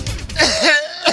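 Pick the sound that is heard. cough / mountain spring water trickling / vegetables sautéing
cough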